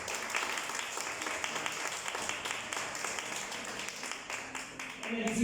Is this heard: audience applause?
yes